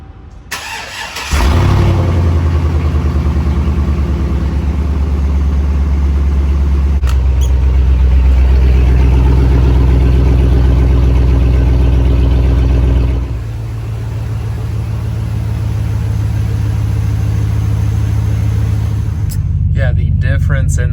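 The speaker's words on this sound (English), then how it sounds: "So I'll get you set up here for a little cold start." A Chevrolet Silverado SS truck with performance coil wires, coil packs and plugs cold starts with a loud crank and catch, then settles into a steady, deep idle that drops to a lower, smoother rumble, with a voice talking over it.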